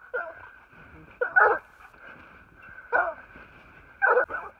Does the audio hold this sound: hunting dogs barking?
yes